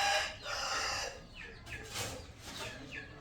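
A rooster crows among fighting cocks, with clucking fowl around it. The calls are loud and close and rise in several short bursts over a busy farmyard backdrop.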